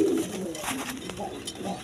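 A pair of American Lahore pigeons coo with their chick, soft and close, in a steady low murmur over a busy, noisy background.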